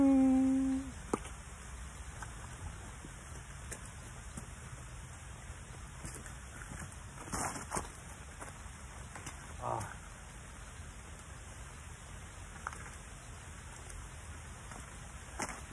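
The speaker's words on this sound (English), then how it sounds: "It's definitely raining." Steady rain falls outdoors during a hurricane with no wind, a constant soft hiss of drops on leaves and ground with a few brief louder taps.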